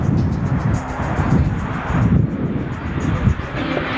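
Engine roar from an aerobatic airplane flying low near the runway at the Reno Air Races, mixed with steady wind noise, loud and close.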